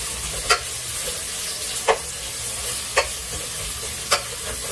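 Garlic and onion fry in a pan for a Bengali dish with greens and fish, a steady sizzle under sharp spoon scrapes about once a second, close and clear with no talk.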